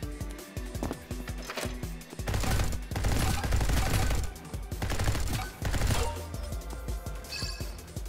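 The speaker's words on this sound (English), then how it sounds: "Soul fires like a machine gun." A soul card weapon in a video game firing like a machine gun, loud rapid bursts of repeated shots in several rolling waves, with brief pauses between them.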